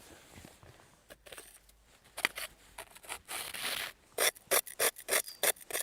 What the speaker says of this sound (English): scrape off some snow,